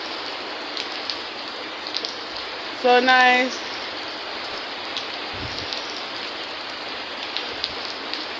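Steady heavy rain pours through a storm, a dense, constant hiss filling the whole clip, while a person speaks briefly over it near the middle.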